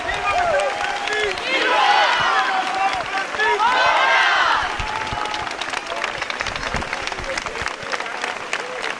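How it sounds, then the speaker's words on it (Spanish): Applause from a crowd lining a village festival procession in Navas de Tolosa, with children running, continuous clapping mixed with shouting voices and cheers, loudest in the first half then thinning into scattered claps and chatter. "¡Aplausos!"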